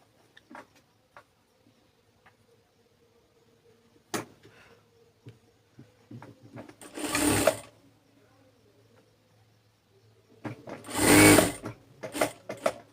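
A sewing machine stitches the side seam of a palazzo sleeve in two loud, fast bursts, with quiet fabric handling, clicks and soft taps between the runs.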